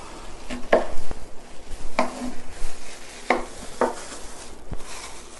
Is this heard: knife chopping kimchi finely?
yes